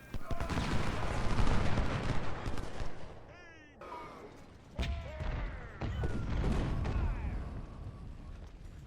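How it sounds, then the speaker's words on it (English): Infantry musket volleys in the Civil War strategy game Ultimate General: Civil War, with a unit firing from a building in Washington; dense crackling fusillades roll on continuously, dip briefly, then resume, with voices talking over parts of it. "He's in a building in Washington firing at an enemy infantry unit facing the wrong way."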